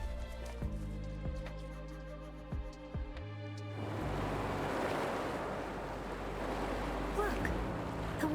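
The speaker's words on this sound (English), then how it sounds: "Look, the water is going down." Water receding in Wuthering Waves, a sustained rushing wash like draining surf that rises midway and carries on steadily over a low hum and game music tones, with no talk.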